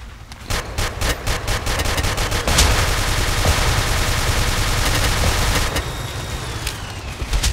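Video game gunfire from Ace of Spades, with rapid, loud bursts of automatic shots and sharp single cracks crowding together, then a dense sustained stretch of firing before more scattered shots at the end.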